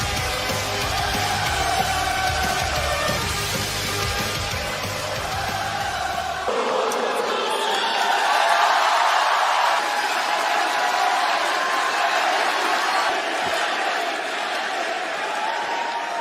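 A red-hot wrestling crowd in an arena in Portland, Oregon roars with loud, dense cheering and whoops, and the noise stays thick and sustained the whole time after the sound briefly shifts partway through.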